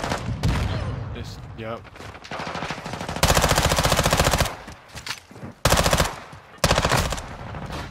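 Gunfire and shotgun blasts on the Shipment map in a shooter video game, loud bursts of automatic fire alternating with brief gaps, with a voice speaking briefly in between.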